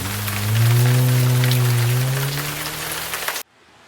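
Rain falls at night around two in the morning, a dense, steady patter beneath a loud low droning hum that wavers in pitch, ending abruptly in near silence.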